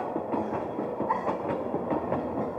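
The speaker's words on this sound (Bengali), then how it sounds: "ট্রেনটা চলতে শুরু করলো।" A train starting to move, its wheels beating a steady clickety-clack rhythm over a continuous rumble, close and fairly loud with no voices.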